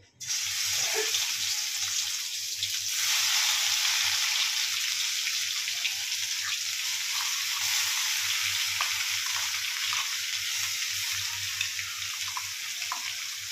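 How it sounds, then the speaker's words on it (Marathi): Steady, loud sizzle of spice paste frying in hot oil for egg curry, a continuous hiss with faint crackles and no talking. "तर आता तेल माझं तापलं आहे, तर मी याच्यात मसाला फ्राय करते।"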